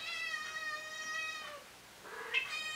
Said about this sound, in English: That is my cat, guys.